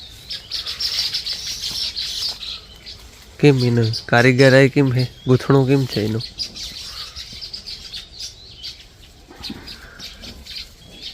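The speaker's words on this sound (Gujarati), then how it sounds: "આ બધી ચકલી છે" Sparrows chirp steadily in the background, with a person talking over them partway through.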